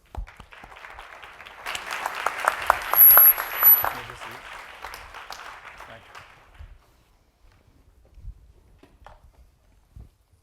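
Audience applause at a panel discussion on shared value in food and agriculture, starting as scattered claps, swelling to full clapping, then thinning out and fading after a few seconds.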